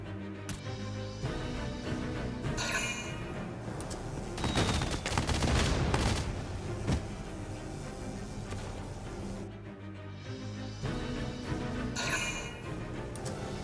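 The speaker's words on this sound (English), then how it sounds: "Oh, that's Kai shooting." Sustained gunfire in Valkyria Chronicles 4 as the squad member Kai opens up, with dense volleys building to a loud peak in the middle, set against game music and battle noise throughout.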